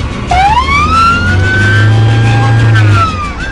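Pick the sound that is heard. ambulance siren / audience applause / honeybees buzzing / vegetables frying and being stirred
ambulance siren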